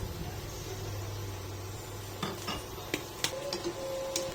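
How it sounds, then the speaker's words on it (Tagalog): A spatula stirs water spinach, tofu and shiitake mushrooms in a pan with a little sesame oil. A low simmer runs steadily, then a few scraping knocks and clinks come near the end. "Then haluin po natin para po magpantay ang pagkakaluto"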